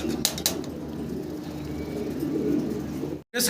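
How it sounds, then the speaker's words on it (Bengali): A pair of large Mundian pigeons; the male coos in low, continuous throaty rumbles close by, with a couple of brief rustles near the start and a short gap near the end. "বিগ সাইজের এক জোড়া মুন্ডিয়ান কবুতর দেখতে পারতেছেন নর এবং মাদি দুইটার অ্যাক্টিভ কত দেখেন নরটা ডাকাডাকিতে ব্যস্ত"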